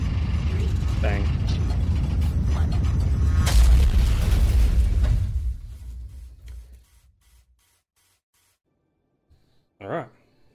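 A loud, sustained rumbling boom as an escape pod slams down in the survival game Planet Nomads, rolling on for several seconds before fading to near silence, followed by one short sharp mechanical clank.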